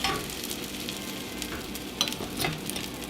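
Cracked eggs fry in a pan, a steady close sizzle with soft crackling and a couple of brief scraping stirs.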